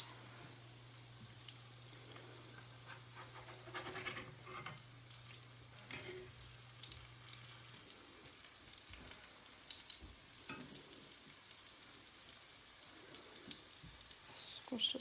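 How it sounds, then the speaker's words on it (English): Patties fry in a pan and get flipped and flattened with a metal spatula, giving a faint, steady sizzle with scattered soft scrapes and taps, plus a low hum during the first half. "I just use a metal spatula, give it a little flip, and a little flatten"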